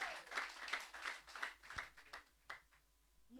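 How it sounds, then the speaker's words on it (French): A church congregation at a testimony service applauds and cheers to acclaim the Lord, rhythmic clapping at moderate distance that swells and gradually thins out, with no clear speech. "On acclame fortement le Seigneur"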